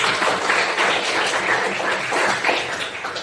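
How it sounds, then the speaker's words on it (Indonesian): Students applauding in a classroom economics lesson, a short lively burst of many hands clapping with uneven, choppy rhythm, fairly close and loud throughout. "Tepuk tangan dulu."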